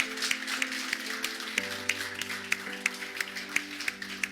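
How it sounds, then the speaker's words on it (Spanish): Church congregation clapping at the close of a Spanish-language service, with steady rhythmic claps over a sustained organ or keyboard chord, moderately loud. "Le damos un fuerte aplauso al Señor."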